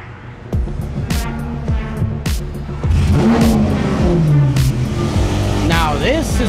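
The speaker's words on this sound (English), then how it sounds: "we're gonna take it out right now, take it for a spin and hear the new tune on it." Tuned Lamborghini Aventador SVJ63 engine, loud and close, with sharp rising revs and pops that swell into a heavier, sustained roar partway through, with a voice briefly audible under it.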